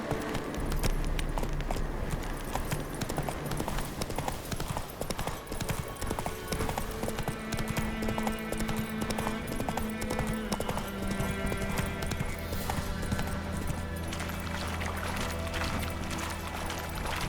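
Roach, a horse in The Witcher 3, trots with steady rhythmic hoof clip-clops over a continuous bed of game ambience and music, the hoofbeats prominent and close throughout.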